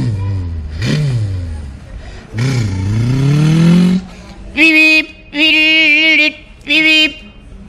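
A person imitates a motorbike with their voice, making two rising and falling revving sweeps, then several short, clipped honking bursts, loud and close.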